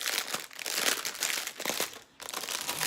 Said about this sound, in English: So it's all going to go into a big Ziploc bag anyway. So, then, sorry about the crinkling.